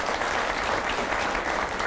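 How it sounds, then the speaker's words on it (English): Studio audience at a daytime talk show breaks into sustained applause, a dense, even wash of clapping that fills the full two seconds at fairly loud level. "Let's applaud both women for being here today"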